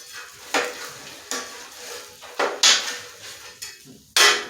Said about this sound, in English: I'm gonna spread the grease out.